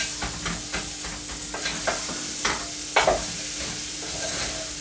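Onion and ginger frying in a pan, a steady close sizzle broken by several scraping stirs and clinks, with no voices.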